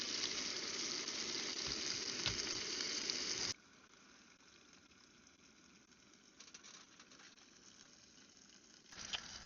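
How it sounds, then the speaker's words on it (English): A pork chop fries in oil in a camping pan outdoors, with a steady, close crackling sizzle that is loud at first, then drops to a softer simmering hiss. "so we got some oil in there already. Okay, throw our pork chop on there."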